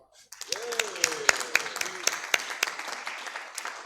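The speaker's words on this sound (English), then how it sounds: "with a round of applause please, to the Rotary Club of Forbes Park" Applause from an event audience welcoming the Rotary Club of Forbes Park, a moderate patter of sharp claps following a brief sliding voice at the start, steady and then tapering.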